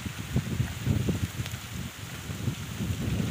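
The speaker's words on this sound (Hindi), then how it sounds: "सीजन की पहली बारिश आ गई है।" Light first-of-the-season rain falls in an open home courtyard, a steady soft patter with faint wind and rustling throughout.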